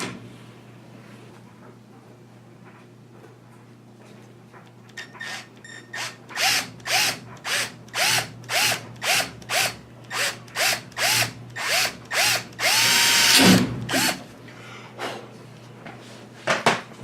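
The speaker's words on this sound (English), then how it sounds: "I'm going to go ahead and drill this out and put a countersunk," A power drill bores out a rivet on the vertical fin of a Piper Super Cub widebody, running in a rapid series of short, loud bursts separated by brief pauses, with one longer continuous run near the end.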